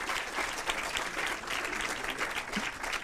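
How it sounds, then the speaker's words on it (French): An audience at a digital economy event applauds a French secretary of state, a full, steady burst of clapping from many hands throughout. "On peut applaudir."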